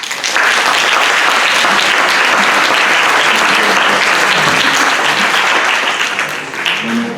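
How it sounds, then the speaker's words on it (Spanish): Sustained, dense applause from a conference audience welcoming a panel speaker, loud and steady throughout with no break, tapering slightly at the very end. "lo recibimos con un caluroso aplauso"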